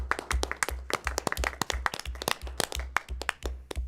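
Clapping from an audience at a school district board meeting welcoming new principals and assistant principals, sparse individual claps close by with a steady, moderately loud rhythm and no talking.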